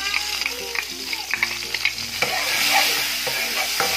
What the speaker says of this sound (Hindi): तो एक चम्मच हमने घी डाल लिया, और अदरक लहसुन का हम पेस्ट डाल देंगे 1 चम्मच।